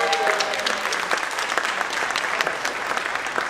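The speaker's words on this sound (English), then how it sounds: "Come on, let's get a round of applause." A room full of people at an evening Black History Live youth event breaks into a round of applause, steady dense clapping at a fairly even level throughout.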